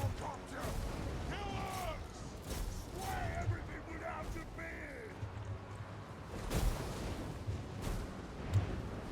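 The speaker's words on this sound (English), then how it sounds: "Let the bombardment commence." Artillery bombardment in Warhammer 2: Total War, repeated distant cannon booms and crackling impacts over clanking mechanical sounds, with voices talking throughout.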